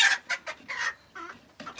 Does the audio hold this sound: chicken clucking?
yes